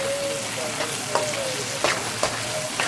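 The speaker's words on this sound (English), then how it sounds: "I already add the onions and garlic to the oil." Onions and garlic fry in oil in a pot with a constant sizzling hiss and a few sharp scrapes of stirring, while a faint voice talks underneath.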